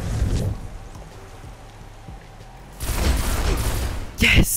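Gunfire in Destiny cracks out in sharp bursts, a loud volley near the middle and a hard close shot near the end, over low game noise.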